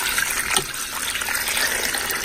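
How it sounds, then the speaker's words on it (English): Water is poured into a crockpot of pinto beans and vegetables, giving a steady, close gushing splash that runs unbroken for about two seconds with no talking. "Here I'm adding my water."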